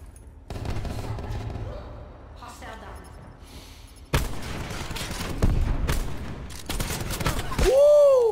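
Hip-fire gunfire in a first-person shooter gun game: bursts of rapid shots and bangs, loud and close, with quieter gaps and a rising whistle-like tone near the end, under excited talk.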